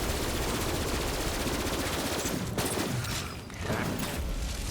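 The L-Shock pistol fires in Borderlands 3 with a dense, rapid stream of loud electric gunfire. It is nearly continuous and broken by a short dip, with booming blasts and other battle noise mixed in.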